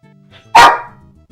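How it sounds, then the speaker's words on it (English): A puppy indoors at night gives one very loud, close bark that stands alone against a quiet background. "You can't be barking like that, buddy."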